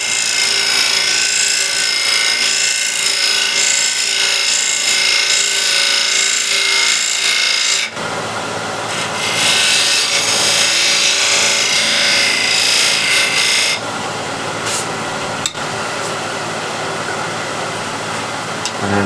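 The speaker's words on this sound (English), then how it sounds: "Now I'll use a square and scraper just to" A square scraper rubs against spinning wood on a lathe, a loud, continuous hissing scrape that shifts in tone partway through and keeps going without pause.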